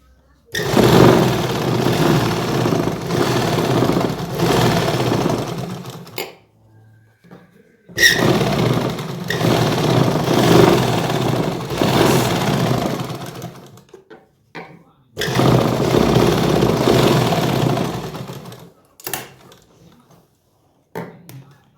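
Sewing machine stitching elastic onto the waistband of palazzo pants, running in three long steady bursts of several seconds each with short pauses between and brief handling noises.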